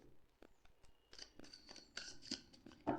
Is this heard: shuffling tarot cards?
yes